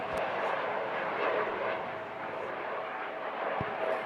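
Navy Hawk fighter jets fly low over Puri beach, a steady broad roar of jet noise holding throughout at moderate distance with a couple of faint knocks.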